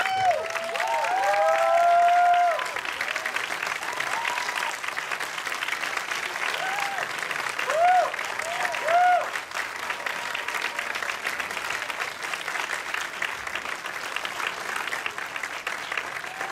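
A film festival audience at a shorts screening Q&A gives a sustained standing ovation, with dense applause and scattered cheers and whoops continuing steadily for many seconds.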